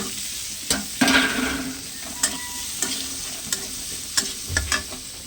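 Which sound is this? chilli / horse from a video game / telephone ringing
chilli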